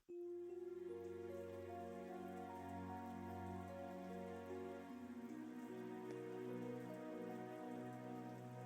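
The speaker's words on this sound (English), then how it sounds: "Oh, it's raining." Steady rain falls in the video game Trails of Cold Steel 3, a constant even patter with no talk, while a sustained musical score plays loudly over it.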